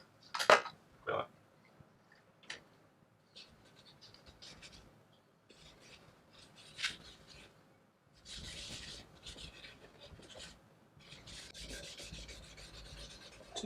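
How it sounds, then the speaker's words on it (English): Hand sanding of a burnt guitar body, intermittent scratchy rubbing strokes in irregular bursts with quiet gaps, close and fairly faint. "we may be sanding it a little bit."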